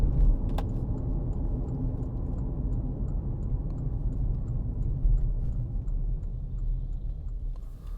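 A 2013 Porsche Cayenne 3.0 TD Tiptronic S AWD diesel drives along a road through bends, giving a steady low cabin rumble and road roar with faint ticking, without speech.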